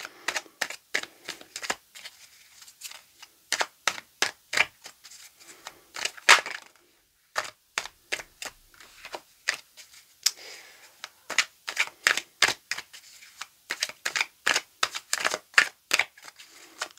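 Tarot cards are cut and drawn in quick bursts of crisp snaps and slaps, fairly close and alone, with short pauses between runs of shuffling.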